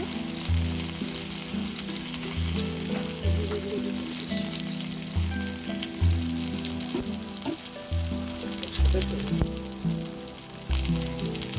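Onions sizzle and fry steadily in a pan for an eggplant bhaji dish, a close, continuous crackling hiss with some stirring noise and no talk.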